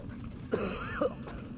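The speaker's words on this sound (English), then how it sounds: "Brother, don't stop and cough." A game character in Remnant 2 gives a couple of short, muffled coughs, close and fairly quiet, over a low background hum.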